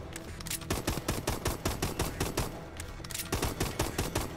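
Rapid, evenly spaced pistol shots ring out in Call of Duty: Advanced Warfare Exo Zombies on the Descent map, a loud close string of cracks with short pauses between volleys and no talk over them.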